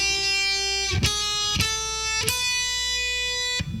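Electric guitar plays a short 1-2-4 finger pattern scale run, a few distinct picked notes with sustained tones between them, clean and moderately quiet with no voices.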